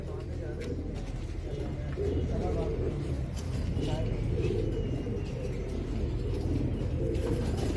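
Domestic pigeons coo repeatedly in a low, throaty murmur that runs steadily throughout, with faint outdoor background noise and a passing car hum.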